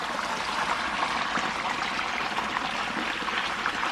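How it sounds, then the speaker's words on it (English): A clear creek on an 1893 rural property runs steadily nearby, giving a continuous close trickling rush of water with no voices over it. "Who needs a sink when you got your own creek?"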